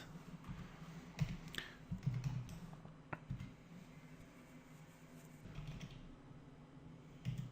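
Faint, irregular keystrokes on a computer keyboard while typing out array values in JavaScript, scattered soft clicks with a few sharper taps over low room hum.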